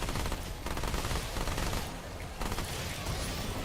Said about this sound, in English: SMG is going crazy!